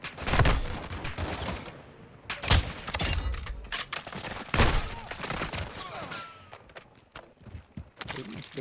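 Gunfire in Call of Duty: Modern Warfare II, with several loud, close bursts of shots and sharp cracks spread through the clip amid footsteps and scuffling, and brief muffled voices in between.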